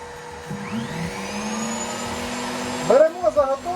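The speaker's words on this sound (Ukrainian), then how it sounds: "Вмикаємо фрезер." A wood router's steady high-pitched motor whine drones on under a vacuum's roar, with a rising pitch as the router spins up and a louder burst near the end, while cutting pallet wood.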